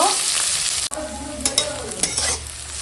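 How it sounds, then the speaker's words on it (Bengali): Sliced onions and green chillies with a bay leaf fry in hot oil, giving a continuous close sizzle broken by a few scraping stirs of a spoon in the pan. "ওই তেলেই এখন দিয়ে দিলাম তেজপাতা আর দিয়ে দেবো এখানে আছে কেটে পেঁয়াজ কাঁচা লঙ্কা পেঁয়াজটা একটু ভেজে নেব"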